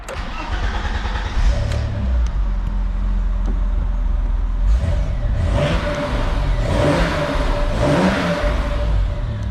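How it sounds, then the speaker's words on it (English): A 1989 BMW E30 six-cylinder engine cranks to life nearby, then revs up loudly several times, dropping back to a rumbling idle between the revs. "A little 6-cylinder in action"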